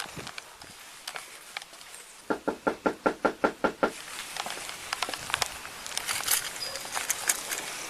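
Sheriff's officers knock on the door of a house during a welfare check: a quick run of about ten firm knocks, close and loud, over faint outdoor background noise.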